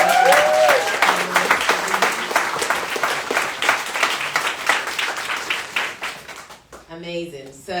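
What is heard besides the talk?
audience applause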